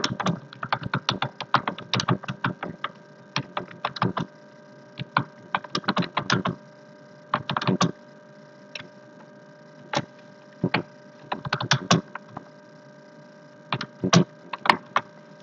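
Rapid clusters of crisp keystrokes on a computer keyboard during an online English lesson, typed in irregular bursts with short pauses, close and fairly loud over a faint steady hum.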